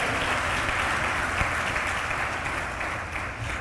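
A church congregation claps for Jesus in a burst of loud, dense applause that stays steady and full, easing slightly toward the end.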